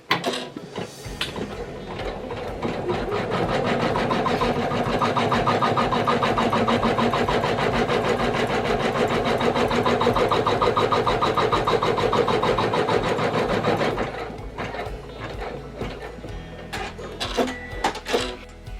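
An embroidery machine stitching a fabric sensory toy runs in a steady, fast mechanical rattle for about thirteen seconds, close and loud, then stops, followed by a few scattered clicks and handling noises.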